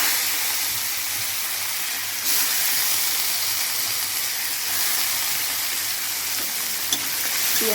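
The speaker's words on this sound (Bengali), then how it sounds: "ফোড়নটা ভালোভাবে ভাজা ভাজা হয়ে গেলে এর মধ্যে আমি কেটে রাখা পেঁয়াজগুলো দিয়ে দিই।" Chopped onions sizzle and fry in hot oil with dried red chilli and whole cumin, a steady close crackling hiss with faint stirring and no voices.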